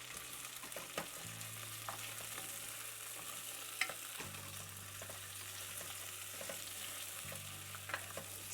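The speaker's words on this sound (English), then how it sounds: "back to the sweet potatoes we go. They're frying away." Sweet potatoes frying in a pan for soy-braised potatoes give a steady, soft sizzle that runs continuously, with small stirring clicks and scrapes on top and a low hum beneath.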